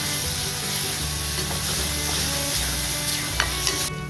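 Peanuts and chili-garlic masala sauté in hot oil for a ridge gourd sabzi, giving a loud, steady sizzle with soft stirring scrapes and a couple of brief clinks near the end; no one speaks.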